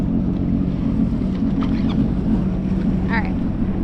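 A 19 ft jet boat's motor runs steadily at close range with a broken exhaust water pipe clamp, a continuous low rumble with wind and water noise, and brief voices over it.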